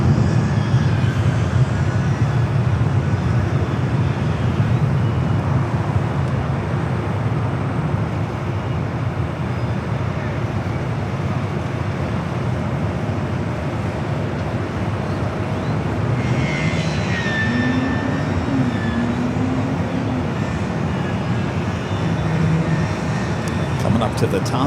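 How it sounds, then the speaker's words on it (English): A Boeing 737 MAX 8 jet airliner arriving from Nashville at LAX produces a loud, continuous engine roar throughout, with people talking over it. "Flight coming from Nashville on a 737 MAX 8."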